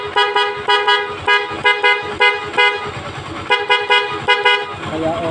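A motorcycle horn with a recharged battery honks in a rapid series of short loud beeps, repeated in bursts across the whole stretch.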